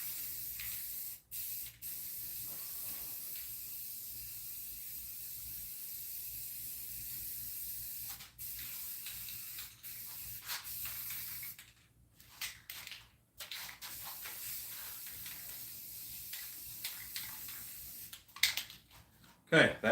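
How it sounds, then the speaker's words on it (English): Aerosol paint sprays in bursts onto a toy spider figure for a custom monster doll, long hissing blasts broken by short pauses, fairly close and with no talk. "I showed you me spray painting the spider."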